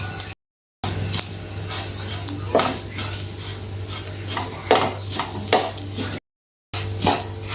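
Fennel seeds stirred into grated coconut roasting in a pan for bitter gourd theeyal, a spoon scraping and clinking against the metal in irregular strokes over a low steady hum, with two brief silent gaps.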